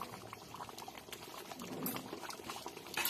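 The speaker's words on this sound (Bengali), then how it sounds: "আর 5 মিনিট মতো ফোটাবো।" Mutton curry with potatoes bubbles steadily in a pot on a gas stove, a soft, continuous burble and pop of thick gravy, fairly quiet and close.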